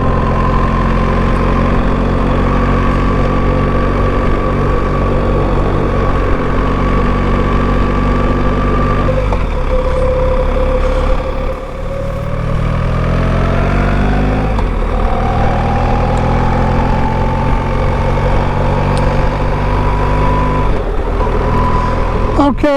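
A BMW R1300 GS Adventure motorcycle engine drones while being ridden at a steady pace, its pitch rising and dipping with gear changes over constant road and wind noise.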